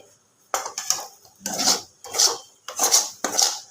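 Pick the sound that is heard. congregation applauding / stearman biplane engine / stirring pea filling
stirring pea filling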